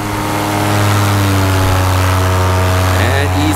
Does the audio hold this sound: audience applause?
no